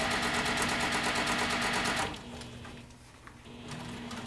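Sewing machine running steadily and loudly while stitching a bag, with a rapid even whir for about two seconds before it cuts out, leaving quieter room noise and faint handling sounds.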